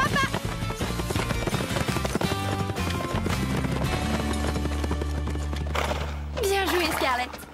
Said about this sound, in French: Au galop, elle peut battre n'importe quel cheval